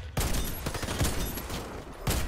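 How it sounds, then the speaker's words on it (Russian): Heavy booming bursts from a grenade going off in the shooter game Warface, three loud blasts at roughly one-second intervals over a dense wash of combat noise. "Граната пошла."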